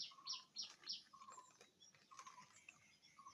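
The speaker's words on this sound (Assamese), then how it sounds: "শালিকা চৰাই।" A common myna calls with short repeated chirps and whistled notes in bursts, faint and somewhat distant, with a soft patter in the background.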